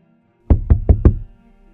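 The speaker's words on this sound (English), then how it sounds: "there's a knock at the door." Four sharp knocks on a door in an even, quick rhythm, loud and close, then quiet.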